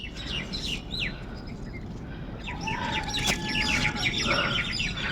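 Several birds chirp and call in short bursts over a steady outdoor background hiss in a forest at Vangani, with a couple of longer whistled notes near the end.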